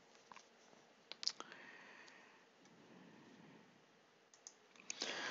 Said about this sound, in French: j'écris MA dans la case du nom